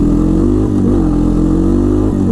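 An ATV engine pulls hard in first gear, a loud, steady mid-pitched drone with a brief dip in revs partway through and again near the end, close and continuous.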